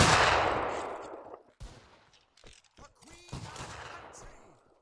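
A musket volley in the Mount & Blade Warband video game, a loud crackling burst of many shots at once that fades out, followed by scattered later shots and brief voices.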